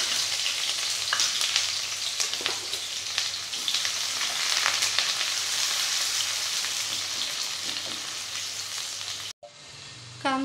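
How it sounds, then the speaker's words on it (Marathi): Chopped onion hitting hot oil in a pan for a Maharashtrian veg dalcha, giving a loud, steady, dense sizzle throughout with occasional stirring, then an abrupt cut near the end to a quieter stretch. "तेल तापलेलं आहे, आपण त्यामध्ये कांदा टाकणार आहोत"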